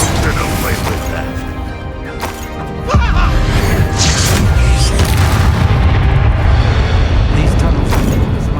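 A deep boom and crashing blast from the Bombarda spell in Hogwarts Legacy on Xbox Series X, erupting loudly midway and leaving a rumbling roar, with a voice shouting spell names over combat noise.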